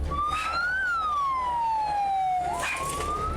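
A loud wailing fire engine siren sweeps up and down in pitch with traffic rumble underneath, then switches to a quicker yelp near the end.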